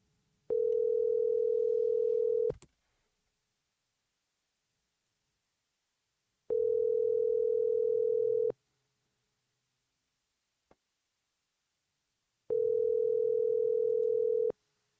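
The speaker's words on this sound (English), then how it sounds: "All right, let me call Bills real quick, man" A telephone tone while placing a call sounds in three identical steady two-second beeps separated by long silences, clean and evenly spaced, with no talking.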